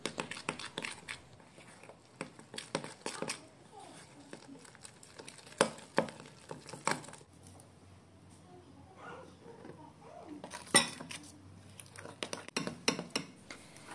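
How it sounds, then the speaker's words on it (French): A spoon works sifted wheat flour into a dough in a bowl, giving irregular clinks and scrapes. The sounds are close but soft, with quiet pauses between them. "en continuant de mélanger juste avec la cuillère dans un premier temps"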